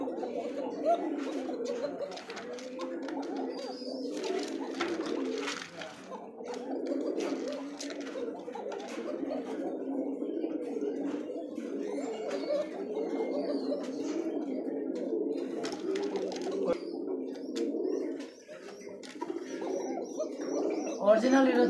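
Bashiraj pigeons, including a male, coo over and over in soft, throaty rolling calls close by, with occasional chirps mixed in and a voice now and then.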